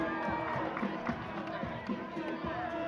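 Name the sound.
basketball crowd cheering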